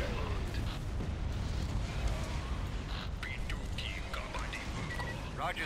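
Heavy gunfire rumbles and bursts steadily through a space battle in a strategy video game (AOTR 2.11.8), a dense, continuous barrage with sharper cracks over a deep roar and faint voice chatter.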